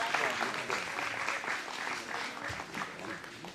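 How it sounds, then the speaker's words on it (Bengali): An audience at a community day-out event claps in steady, moderately loud applause, with voices talking over it. "সবাই জ্বর তো হ্যাঁ একটু হাততালি দিন প্লিজ"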